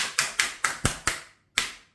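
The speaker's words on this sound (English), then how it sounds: "Pierce the film lid several times." A microwave ready meal's plastic film lid being pierced, six sharp taps in a quick, fairly even rhythm with a short pause before the last, close and distinct with no talking.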